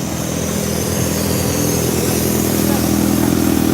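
A Suzuki motorcycle engine running steadily nearby on a city street, a continuous loud rumble with a low, even drone throughout and no clear revving.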